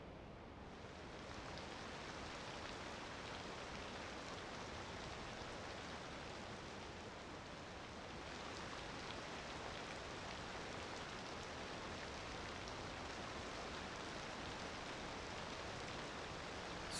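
Steady early-morning rain falls over a Cities Skylines 2 city, an even, dense hiss that holds unchanged throughout with no voices.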